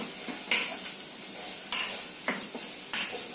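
Raw banana pieces stirred in a pan on the stove, a spoon scraping and clacking against the metal in several distinct strokes over a soft background sizzle, with no talking.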